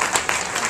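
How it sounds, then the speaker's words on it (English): A round of applause from an audience at a local food presentation bursts in briefly, a short wash of clapping. "So let's give them a round of applause."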